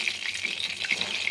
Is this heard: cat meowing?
no